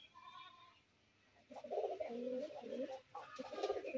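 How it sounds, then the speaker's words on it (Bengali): Domestic desi pigeons coo softly close by, with several overlapping low throaty calls from a flock resting indoors and a quieter stretch before the cooing picks up. "আর হচ্ছে এই জায়গায় সবগুলো কবুতর।"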